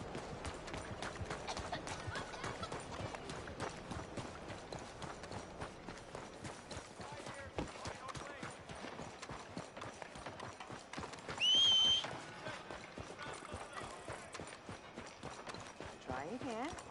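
Horse galloping in Red Dead Redemption 2, continuous rhythmic hoofbeats at a steady pace, with a voice heard over them.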